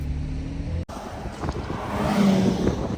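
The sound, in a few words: black Ferrari LaFerrari Aperta driving past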